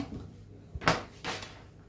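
A kitchen drawer, the only one in a small home kitchen, slides open and shut in two quick broadband bursts close to the listener, with a faint low hum underneath.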